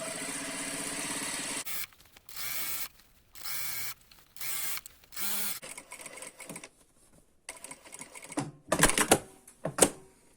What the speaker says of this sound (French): je couds à peu près à 1 mm du bord, 2 mm